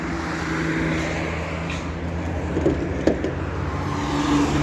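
A 2020 Chevrolet Spark engine idles steadily nearby with a low, even hum and a faint rattle, a brief small knock near the end, and no talking.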